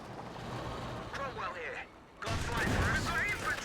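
Rifle and machine-gun rounds striking an assault officer in Company of Heroes 2, a crackle of shots that briefly drops away and then returns as a louder, denser burst under a commentator's voice.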